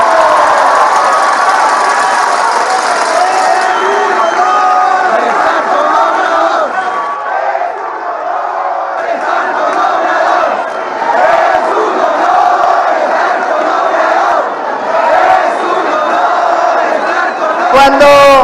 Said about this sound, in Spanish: que se oiga hasta Palenque el aplauso